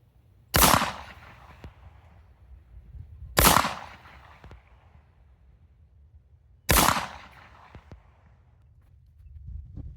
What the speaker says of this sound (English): I just took a few shots